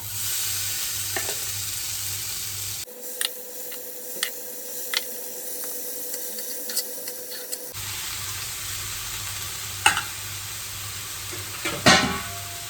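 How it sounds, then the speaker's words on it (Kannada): Paneer sandwich filling fries on a hot pan, a steady close sizzle broken by a quieter stretch, with sharp clicks and scrapes of stirring throughout. "ಸ್ವಲ್ಪನೇ ಫ್ರೈ ಮಾಡಿ ಹಾಕ್ತೀನಿ"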